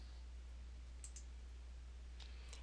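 Computer mouse clicking a Next button in Oracle APEX 4.2.4 software, a few faint sharp clicks in pairs over a low steady hum in a quiet room.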